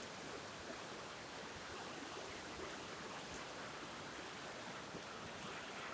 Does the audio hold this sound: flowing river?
yes